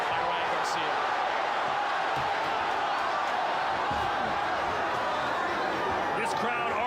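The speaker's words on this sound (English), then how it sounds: "This crowd already at full voice" A boxing arena crowd roars at full voice during a 2023 Ryan Garcia bout against Duarte, a steady, loud wash of cheering heard from inside the venue.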